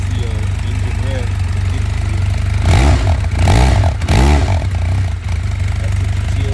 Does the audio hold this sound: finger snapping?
no